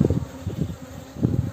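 Honey bees buzz around a queen bee at a hive, a low droning hum that swells and fades in several close pulses with no speech.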